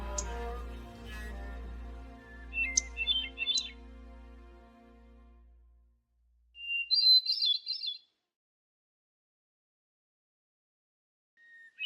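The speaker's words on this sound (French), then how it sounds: "Cette fois-ci, c'est pas la grive dorée de Sibérie, c'est la grive solitaire." Hermit thrush song recorded in Quebec: two short bursts of clear, high, fluting phrases, moderately near, with a low droning hum under the first few seconds and quiet gaps between phrases.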